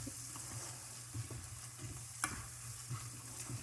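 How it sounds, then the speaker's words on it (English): Mushroom soup being stirred into a dish for a Thanksgiving meal, with soft scraping strokes and a few light clicks of the utensil over a steady low background hum, fairly quiet and with no voices. "I'm just going to mix it in there and make sure it's all mixed in"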